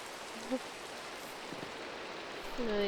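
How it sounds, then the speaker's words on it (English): Steady rain in Minecraft, an even hiss of falling drops that holds throughout, with a faint tone rising near the end. "It's still raining though."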